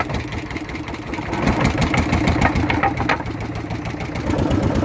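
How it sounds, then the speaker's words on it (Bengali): A fishing boat's motor on the Bhagirathi river at Shibganj runs with a fast, steady mechanical chugging, close and fairly loud, swelling slightly in strength as it continues. "দেখুন এবার স্টার্ট দিয়ে দিচ্ছে নৌকায়।"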